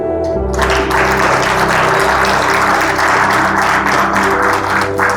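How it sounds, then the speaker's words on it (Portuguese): A church congregation applauding the Lord during a sermon: steady, loud, sustained clapping from many hands over a low sustained tone, continuing throughout. "Dê um aplauso ao Senhor."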